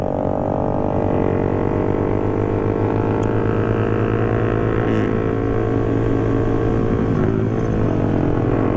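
Honda Sonic 150R motorcycle engine droning steadily and loudly throughout a ride, a constant close-up rumble with no talking over it.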